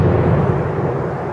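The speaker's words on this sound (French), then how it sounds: "D'accord, encore un peu d'orage." Thunder from a thunderstorm over the village of Sonada: a loud, deep, continuous rumble that fills the whole moment without breaks, with no voices.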